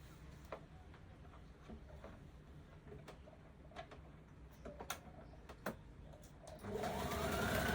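A sewing machine stitches a dart on a skirt, a faint, quiet run of light mechanical ticks that swells into a louder, steady whir near the end.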